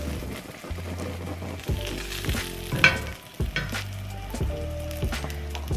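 Food, probably bread slices laid flat, frying in a hot cast-iron skillet, with a steady sizzle and scattered scraping and clattering knocks, close and moderately loud with no talk.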